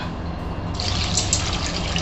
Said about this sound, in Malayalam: ഇനി ഇത് കുറച്ച് വെള്ളം ഒഴിക്കും